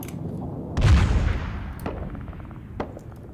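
In the Arma 3 military game, a deep booming artillery shot thumps out loud and close and rolls away, followed by a few sharper, more distant gunshot cracks.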